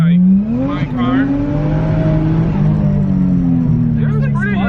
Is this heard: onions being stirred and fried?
no